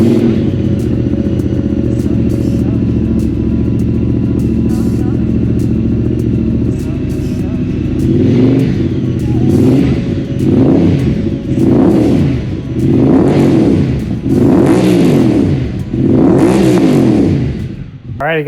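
A Honda Talon side-by-side engine with a newly welded exhaust idles steadily, then revs in a series of rising, swelling pulses, loud and close throughout.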